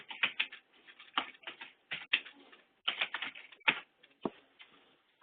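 Someone typing a website address into a comments section on a computer keyboard, bursts of quick close key clicks with short pauses between groups, no voice.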